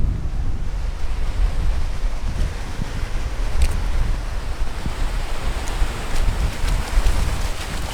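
Waves wash steadily against the shore after a storm, with rain and gusting wind buffeting the microphone in a continuous, fairly loud low roar and no speech.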